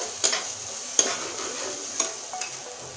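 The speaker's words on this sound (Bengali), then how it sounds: "এবার মশলাটা সুন্দর করে কষিয়ে নেব।" Spice paste with coriander powder being stir-fried in a pan, a soft low sizzle punctuated by a handful of spaced spatula clinks against the metal, close and quiet, with no one talking.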